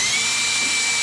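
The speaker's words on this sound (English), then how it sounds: "I'm just going to drill a hole, put 1 bolt in it, and then take the clamp off and drill the others." Power drill boring into a metal bracket, a steady high-pitched whine held loud and close without a break, no voices.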